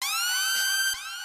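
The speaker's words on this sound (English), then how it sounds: "the 808 Mafia horn thing, whatever it's called, siren, Kill Bill sound" 808 Mafia-style horn siren effect in a trap beat: a loud, bright electronic wail with stacked sweeping harmonics that rises and falls and then dips near the end, playing alone with no voices.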